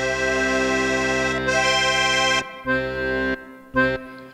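A left-hand accordion bass sample from Kontakt, played on a keyboard in vallenato style. A long, low, reedy held tone is followed by several shorter bass notes, close and fairly loud.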